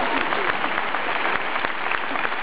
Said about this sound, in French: Merci aussi de l'applaudir